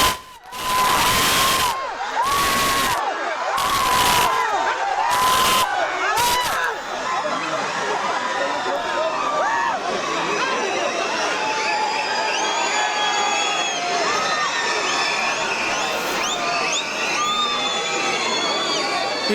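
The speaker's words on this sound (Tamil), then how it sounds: "கரகோஷங்கள், விசில் சத்தங்கள் விண்ண பிளக்குது கேட்போம்." A political rally crowd greets the arriving Chief Minister with loud cheering, applause and shrill whistles, starting with bursts of noise and then settling into a continuous roar of shouting and whistling throughout.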